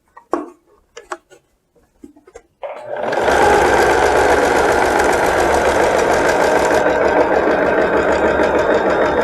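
A few light handling clicks give way to a sewing machine stitching blouse fabric, running loud and steady at close range for several seconds.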